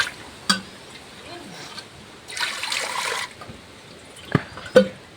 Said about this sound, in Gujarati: મેગી બનાવવાની છે એટલે હવે પાણી નાખી દેવી